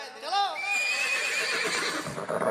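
Horse at a religious gathering held in a marriage garden, letting out a loud shaky whinny that rises and falls, with people talking and background crowd noise throughout.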